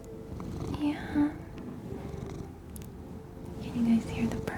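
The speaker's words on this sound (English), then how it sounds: "Can you guys hear the purring?" A cat purrs softly and continuously up close, the low rumble running beneath quiet, gentle talking and a few louder bumps.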